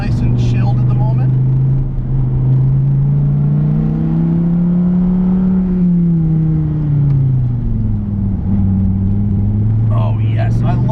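Dodge Viper T/A engine droning steadily from inside the car while driving, a low loud hum that rises and falls in pitch with changes in engine speed, continuous throughout.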